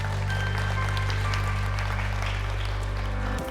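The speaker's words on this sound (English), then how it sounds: "could we please give this fabulous team a round of applause?" Audience applause for a school staff team at a staff onboarding session, a steady wash of clapping lasting a few seconds over a strong low electrical hum, ending abruptly.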